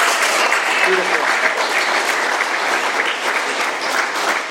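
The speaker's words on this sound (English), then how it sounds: "another round of applause, that was fantastic" Steady, dense applause from a room full of people at an AA meeting, sustained clapping at an even level throughout.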